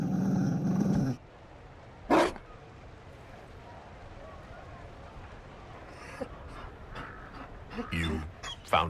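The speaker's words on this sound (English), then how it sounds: "You found a dog?" A Mabari war dog growls in Dragon Age Inquisition: The Trespasser, several short rough growls and snarls, close and loud, with game dialogue before and between them.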